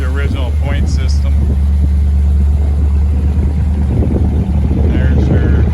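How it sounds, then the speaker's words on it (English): A 1955 Chevrolet Bel Air with original point ignition idles steadily through dual exhaust, a continuous low rumble running loud and close throughout, with someone talking over it. "here got a nice sound, got dual exhaust, so really cool car."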